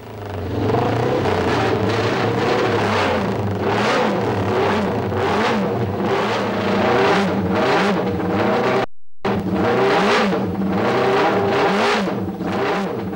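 A 1962 or 1963 Honda racing motorcycle engine runs at a classic motorcycle festival, loud and close, with repeated rising revs and a rasping exhaust note throughout, briefly cut off near the end.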